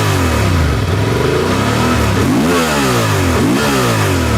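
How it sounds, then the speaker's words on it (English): Close, loud revving from a Honda Transalp motorcycle with a stock exhaust, the engine climbing and dropping in two or three sharp throttle blips over a steady running drone. "let's hear a little bit the sound of the bike."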